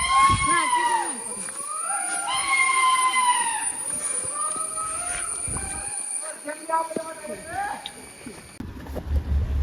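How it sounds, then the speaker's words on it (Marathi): The Matheran toy train arrives at the foggy hill station in monsoon, with its wheels squealing in long, high, wavering tones that come and go, and voices can be heard around it. "तर ट्रेन आलेली आहे फायनली"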